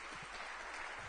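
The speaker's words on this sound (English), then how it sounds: "Let's give them a round of applause." Brief, fairly faint clapping from a college forum audience, a steady patter of many hands without any talking.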